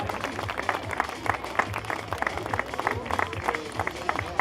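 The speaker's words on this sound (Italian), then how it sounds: "applausi!" A marathon crowd at an outdoor race awards ceremony keeps up sustained, fairly faint clapping, with individual claps rising and falling in a continuous patter.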